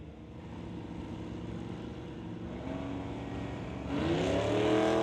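A GMC pickup launches at a drag race chasing a wagon, a loud engine roar that holds steady and then climbs sharply in pitch as it revs away at the end; no speech.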